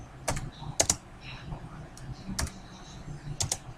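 Typing on a computer keyboard, quiet and fairly close, with scattered clicking keystrokes in short bursts and pauses, over a faint background hum.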